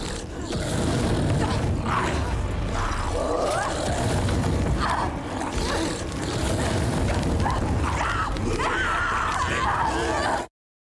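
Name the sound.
enemy fire attack booming in Senua's Saga: Hellblade 2 video game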